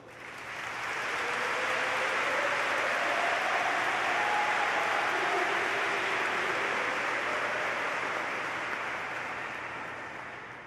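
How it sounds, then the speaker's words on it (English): A large crowd at a high school graduation ceremony applauds the parents, a dense, even wash of clapping that swells in and holds steady for about ten seconds before tapering slightly. "and also give them a round of applause"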